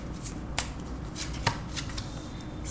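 Tarot cards drawn from a deck for a reading, a few soft papery slides and two sharper card snaps over a faint steady room hiss, close and quiet.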